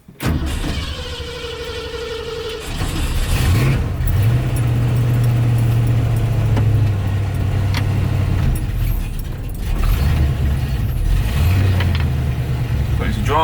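A Ford Mustang starts up and idles, then its engine holds a steady, loud drone with a brief dip partway through, heard from close by inside the car.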